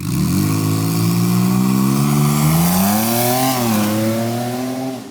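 A single-turbo Kia Stinger accelerates hard on a drag run, the engine note climbing steadily through a long, loud pull with a brief dip at a shift, then continuing to rise.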